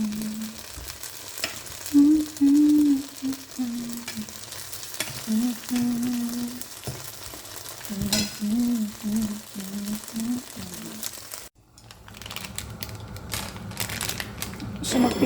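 Turon, banana spring rolls, frying in hot oil, a steady close crackling sizzle with bursts of popping, under a voice speaking intermittently throughout.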